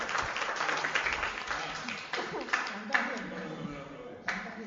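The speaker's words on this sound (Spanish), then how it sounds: "denle un aplauso a los dos grupos" A crowd applauds two student groups at the end of a classroom presentation, a steady mass of clapping at moderate volume with bursts of louder claps, mixed with murmuring voices.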